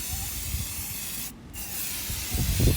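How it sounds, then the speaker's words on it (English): Aerosol spray hisses steadily and close by for over a second, pauses briefly, then resumes, with some rustling and handling noise near the end. "Just sprayed it on there."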